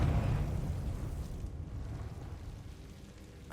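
A Confringo explosive spell cast in the video game Hogwarts Legacy bursts into a deep, booming rumble that slowly fades, fairly quiet overall.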